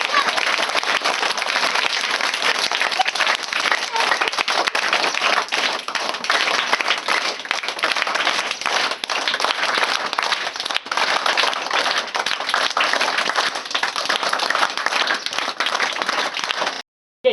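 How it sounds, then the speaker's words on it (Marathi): A room of schoolchildren claps as hard as they can, a loud, dense, unbroken roar of applause sustained for many seconds before stopping abruptly at the end. "जीव तोडून टाळ्या वाजविल्या पाहिजे."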